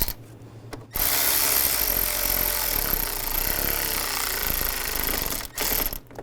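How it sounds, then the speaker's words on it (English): Power screwdriver driving a screw into a thermostat housing on a 2001-2006 BMW 325xi, one continuous loud whirring run of about five seconds, close by, with no talk. "Tighten that down."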